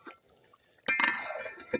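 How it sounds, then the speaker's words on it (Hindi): Water is poured into a cooking pot of matar pulao, a large 5 kg batch with tomatoes, in a brief, close splashing gush after a quiet moment. "इसलिए हम पानी इसमें कम ऐड करेंगे।"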